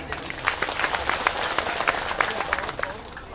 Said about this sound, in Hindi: गजल खत्म हो चुकी है, आप ताली बजा सकते हैं।